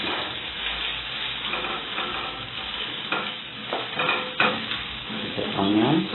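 Onions frying in a pan for omena (dagaa) are stirred, a soft sizzle with scraping spoon strokes and intermittent clatter, moderately quiet and close.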